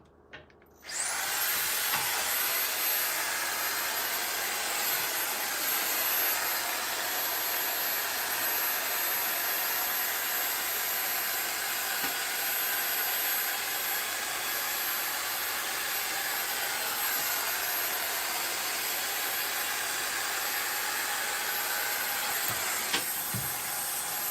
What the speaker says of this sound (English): It is a drying tool that has some plates kind of built in.